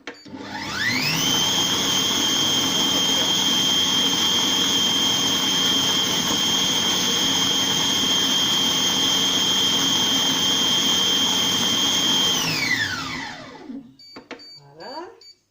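Compact Cook Pro food processor whirring at speed 8 while blending a mushroom velouté, a loud steady high-pitched motor whine held for about twelve seconds before spinning down and stopping, followed by faint clatter.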